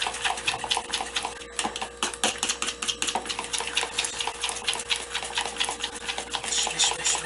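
Rapid stirring clinks as a drink is mixed to dissolve tapioca, a quick steady run of close spoon-on-cup taps with sharper knocks scattered through the whole stretch.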